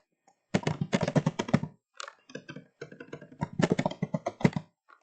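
Fingers type a chart title on a computer keyboard, giving two bursts of quick, close key clicks separated by a short pause, with a sparser run of taps between them.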